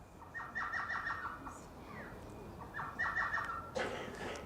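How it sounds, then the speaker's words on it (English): An elf owl calls in a rapid series of high, chattering yelping notes, repeated in two short bursts over a soft hissing background, clear but not loud. "I want you to hear the hoot of the elf owl."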